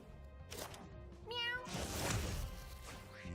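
Cat meows from the video game Mewgenics, a few short rising and falling calls heard faintly among other game noises, with no talk over them.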